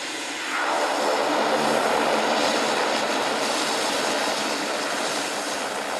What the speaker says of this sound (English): Courchevel runway demands perfection. The aircraft fights gravity to stay on course.